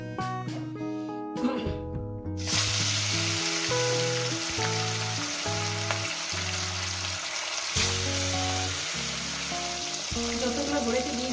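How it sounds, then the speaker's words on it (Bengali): Fish pieces drop into hot salted oil in a pan and burst into a loud, steady sizzle after a quiet start, with background music playing throughout. "তেলটা আমার গরম হয়ে গেছে বন্ধুরা, দিয়ে দেবো লবণ। এক এক করে মাছের পিসগুলো আমি দিয়ে দেবো।"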